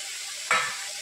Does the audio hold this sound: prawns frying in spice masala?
yes